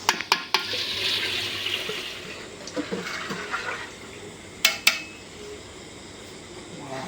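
Water poured into a pot of browned mutton khichuri with lentils, a splashing, bubbling rush followed by a few sharp clinks of a spoon against the pot, close by.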